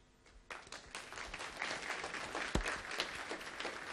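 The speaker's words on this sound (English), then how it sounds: "So let's give a rousing round of applause again." An audience applauds at an event, dense clapping swelling in within the first half second and holding steady and full for several seconds, with no voices over it.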